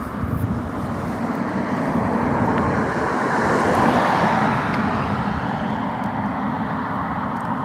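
A car passes on a road near a beach, its steady broad rumble swelling gently toward the middle and then easing, with no voices.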